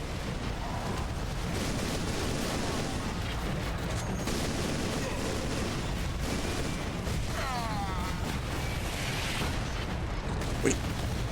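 Enemy gunfire and blasts from Warhammer 40,000: Space Marine on PS3 rattle continuously over a dense, steady battle din, with a small sharp spike near the end and no voices.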